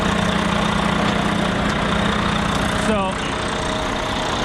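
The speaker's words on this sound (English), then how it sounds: "DD15 Detroit diesel" A DD15 Detroit diesel engine in a concrete mixer truck idles with a steady, loud low rumble. Someone speaks briefly over it.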